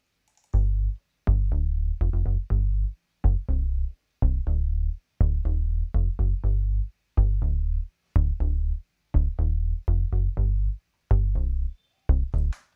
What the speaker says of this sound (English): This is a bass line.